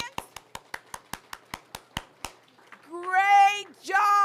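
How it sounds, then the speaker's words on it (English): A town hall audience claps in unison, about a dozen sharp, evenly spaced claps in a steady beat, then the clapping stops and voices follow, including a child's. "clap your hands"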